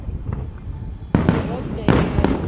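New Year fireworks burst in two sharp, loud blasts outdoors, following a quieter stretch of distant crackle and murmuring voices.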